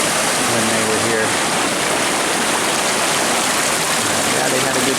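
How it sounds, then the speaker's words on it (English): A turbulent stream rushes loudly and continuously outdoors on a walk, with a dense, unbroken roar of water and a voice talking over it. "There wasn't as much water rushing through"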